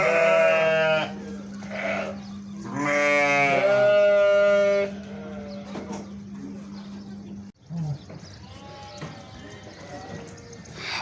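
Goats bleat at evening feeding time on a farm in Dubai, several loud, wavering calls, with a steady hum underneath and some quieter animal sounds later.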